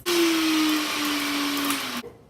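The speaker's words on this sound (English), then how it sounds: "Now we're going to beat the cream cheese, sour cream, and confectioner's sugar together." An electric mixer beats cream cheese, sour cream and confectioner's sugar, a loud steady motor whine that holds a single tone, drifts slightly lower, then cuts off abruptly.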